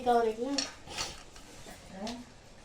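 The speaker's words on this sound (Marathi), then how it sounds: "आता हे स्टीम करायला लावते आपण आपल्याकडे इडलीचं भांड आहे ते इडलीच्या भांड्यामध्ये आपण लावतो" Momos set into an idli steamer pot, heard as a few soft metallic clinks and taps of pot and utensils, with a quiet voice in the background.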